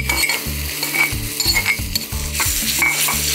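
Raw banana peel and black sesame seeds cook in a pan, giving a loud, close sizzle with repeated rhythmic scraping and stirring strokes of a spoon against the metal, and no talking.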